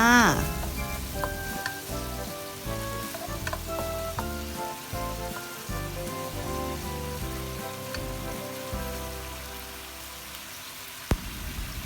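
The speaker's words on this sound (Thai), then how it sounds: "แล้วก็ผัดแล้วก็คลุกเข้าให้เข้ากันให้หมูสุกดีเลยจ้า" Pork frying with soy sauce, oyster sauce and sugar in a pan, a loud steady sizzle with repeated stirring clatter, fading slightly over time, with one sharp knock near the end.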